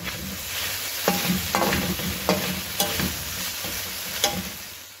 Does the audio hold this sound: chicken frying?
yes